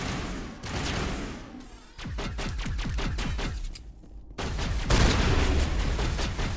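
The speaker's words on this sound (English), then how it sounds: "I don't like the shotgun." Shotgun blasts in the shooter game Mass Effect, several loud close bursts in quick succession, separated by short pauses and thick with booming combat noise.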